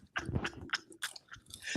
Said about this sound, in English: He said the chewing sound.